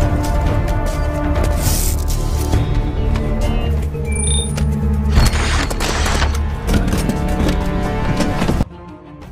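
Rapid bursts of gunfire from a robot's ammunition in an action film, loud and dense with booms and sharp cracks layered over a continuous roar before it cuts off abruptly near the end.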